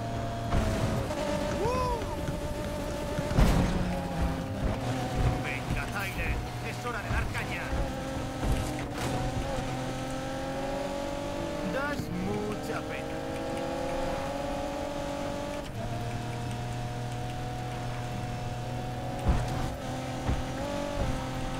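A tuned car in Need For Speed Payback revs and shifts through a race, the engine note rising and falling among occasional tire squeals and other game effects.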